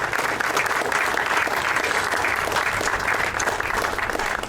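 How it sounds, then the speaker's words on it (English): An audience claps at a birth home marker unveiling ceremony, steady dense applause held at full strength for several seconds, a little crowd murmur underneath. "let's give him a round of applause"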